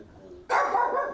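A dog barks once loudly and close in a room where a film plays, a single sharp bark that rings on briefly after a quiet lead-in.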